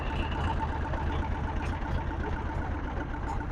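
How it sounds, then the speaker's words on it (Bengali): A sampan boat's engine runs steadily at Avoy Mitra Ghat on the Karnaphuli River in Chittagong, giving a continuous low, rumbling drone at even loudness throughout. "সাম্পানটা স্টার্ট করা হয়েছে"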